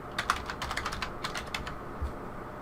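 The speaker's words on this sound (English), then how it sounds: "we'll go ahead and enter our password" Fingers type a password on a computer keyboard, quick clusters of light clicking keystrokes with a short pause, close and fairly quiet.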